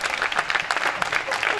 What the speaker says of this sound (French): Non, applaudissez plus fort.